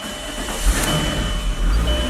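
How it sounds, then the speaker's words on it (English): A Volkswagen car engine idles steadily in a garage with a low rumble, a brief rise in revving partway through, recorded up close with no speech. "I'm going to start the motor, right?"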